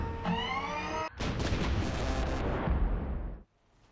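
Armored APC tank turret firing in Grand Theft Auto, heavy booming artillery-like blasts rolling into a dense, sustained roar of explosions that cuts off abruptly near the end, loud and close with no talk.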